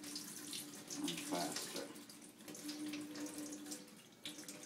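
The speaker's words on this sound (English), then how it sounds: "When it's in a slant, you get the water to drain off much easier" Water pours and trickles steadily off rice in a slanted cooking pot for Jamaican-style rice and peas, a continuous soft splashing with a brief spoken remark over it.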